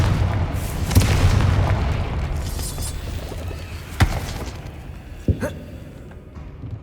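A Confringo blasting spell explodes in Hogwarts Legacy with a booming burst over a dense rumbling bed, followed by sharp cracking impacts near the four- and five-second marks.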